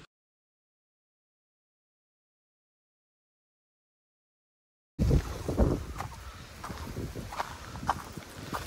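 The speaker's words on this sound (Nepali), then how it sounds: "हावा चाहिँ बब्बाल चलेको छ यहाँ" Strong wind gusts along a jungle path climbing toward a hill ridge; after about five seconds of silence, a rough, steady rush of wind buffets the microphone, with no one speaking.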